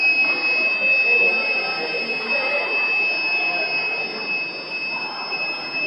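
Fire alarm buzzer on a school science exhibition model, a steady high-pitched electronic tone holding without a break over a busy hall with people talking around it.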